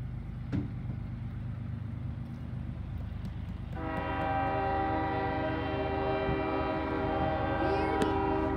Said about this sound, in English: how many times does this train have to blow its horn?